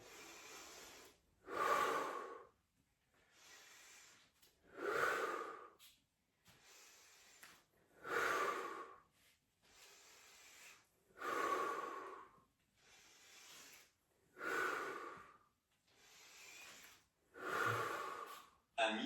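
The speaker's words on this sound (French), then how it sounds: "on expire sur l'effort" Heavy rhythmic breathing during a Pilates wall workout for thighs, abs and glutes, forceful exhales repeating about every two seconds, close and clear, with no talking.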